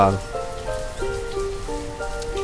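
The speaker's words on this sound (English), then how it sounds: "it is constantly raining in this region" Steady in-game rain from the city-building game Banished hisses continuously under a sparse, plucked musical soundtrack with held tones, fairly loud throughout.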